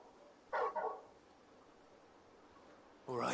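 A dog barks in the Final Fantasy 16 video game, two quick close barks early on, then a longer stretch of quiet ambience before another sound rises at the end.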